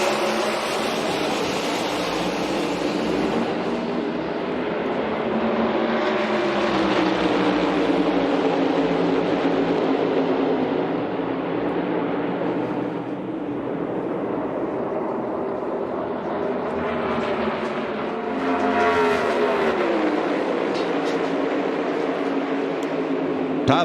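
NASCAR Cup Series stock cars race in the Goodyear 400, a dense continuous roar of many engines that swells and fades as the pack sweeps past.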